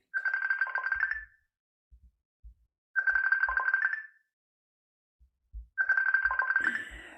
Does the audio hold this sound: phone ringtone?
yes